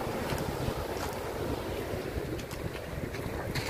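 Rough sea after rain, waves breaking in a continuous churning wash with wind buffeting the microphone, steady and fairly close throughout with no voices.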